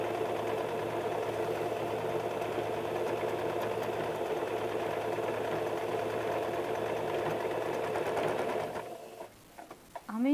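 Sewing machine stitching a half-inch side dart on a blouse, running steadily with a loud, even mechanical whir for most of the clip, then stopping abruptly near the end.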